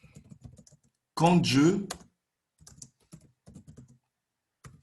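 Someone types on a computer keyboard in scattered bursts of quick, close clicks, with a short spoken phrase in between.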